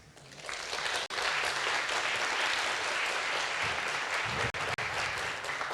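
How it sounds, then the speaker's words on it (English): A conference audience claps at a tech talk on migrating apps to multi-cluster Kubernetes, a full, sustained round of applause that swells quickly and holds steady, briefly broken by short dropouts. "Let's give them a round of applause."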